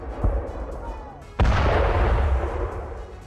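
A sharp explosion from a missile strike in Ternopil, Ukraine booms and rolls into a long rumbling decay, preceded by a smaller distant thud.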